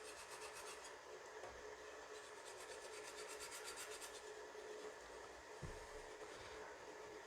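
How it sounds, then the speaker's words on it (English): A wooden SKS rifle stock being gently rubbed and scraped to strip its old finish, giving a steady, soft rasping texture that runs continuously and close throughout, with no talking. "I'm just gently just rubbing."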